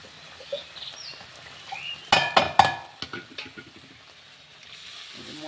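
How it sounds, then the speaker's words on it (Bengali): Spice paste being stirred and fried in a pan for a Bengali shukto-style dish, with soft sizzling and a few sharp scraping clatters of a spoon against the pan midway. "এবার মশলাটা ভালো করে কষে নেব।"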